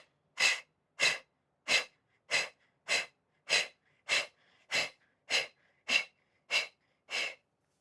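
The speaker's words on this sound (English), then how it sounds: "it's bouncing up and down as you do very sharp but short exhales" Twelve sharp, short exhales in a breathing exercise, evenly spaced at roughly one every half second, close and breathy, with no talking between them.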